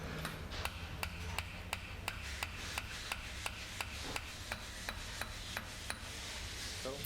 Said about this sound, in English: we're just tapping it into place nice and gently